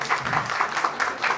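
Applause from guests in a wedding-hall banquet room at a Korean first-birthday party, steady and moderately loud, lasting only a moment.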